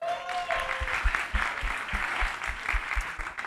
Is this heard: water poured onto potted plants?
no